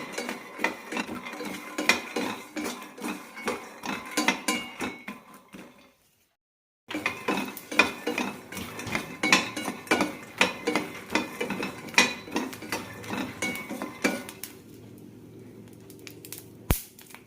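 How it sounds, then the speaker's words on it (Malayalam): Peanuts and almonds dry roasting in a pan over a medium flame, stirred with a spoon: close, rhythmic rattling and scraping strokes in steady bursts, a brief silent gap, then more stirring that thins to a faint rustle. "മീഡിയം ഫ്ലെയിമിലിട്ട് വറുത്തെടുക്കാം"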